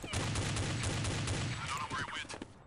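Automatic gunfire in Counter-Strike: Condition Zero on the Havana map with bots, a rapid loud burst of shots close by, tapering off into quieter game sounds.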